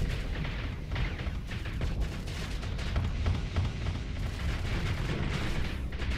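Missiles launch and detonate in StarSector space combat, a continuous loud barrage of overlapping booms and rumbling blasts with rapid thuds running throughout and no talk.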